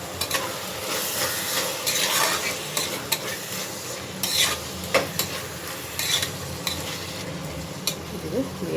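Tomatoes cooking with salt in a pan for vegetable pulao, a steady close sizzle with repeated spoon stirring and clinks against the pan.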